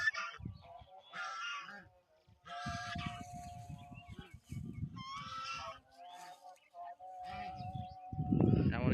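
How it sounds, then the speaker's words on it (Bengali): Geese honk loudly in repeated bursts, with low rustling and shuffling between the calls and a heavier thump near the end. "এতগুলো হাঁস একসাথে, খুবই সুন্দর, চমৎকার।"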